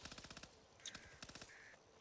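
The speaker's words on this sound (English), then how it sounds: "I almost walked right into them birds" Crows caw in the zombie shooter game Back 4 Blood, with a rapid string of sharp cawing bursts mixed with gunfire-like clatter, fairly faint overall.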